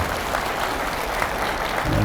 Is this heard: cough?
no